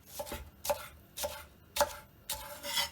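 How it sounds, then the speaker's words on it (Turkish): A knife chops green onions steadily on a cutting board, five or six crisp strikes at an even rhythm, close and fairly quiet with no voices. "Bu şekilde bütün yeşil soğanlarımızı doğrayacağım."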